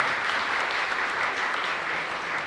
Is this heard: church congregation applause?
yes